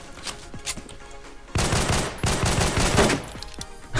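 In a Roblox game, an AK-47 fires a few scattered single shots, then a long sustained loud automatic burst, and ends with a few more sparse shots.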